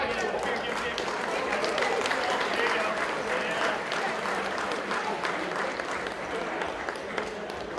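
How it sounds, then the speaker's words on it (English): Audience applause at a high school esports state finals awards ceremony for Super Smash Brothers, steady crowd clapping that carries evenly through the whole stretch at moderate distance, with some chatter mixed in. "One more round of applause for Rip-Off High School."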